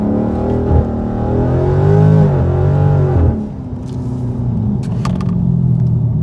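A Dodge Charger ScatPack holds steady at about 2,000 RPM on launch control, its engine droning loudly with a rising, wavering tone, then the note drops abruptly as the car releases and pulls away into a lower rumble.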